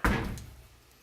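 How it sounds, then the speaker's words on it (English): A sliding glass door closes with a single soft thud that quickly fades, heard once and fairly quietly. "And then we have this sliding glass door"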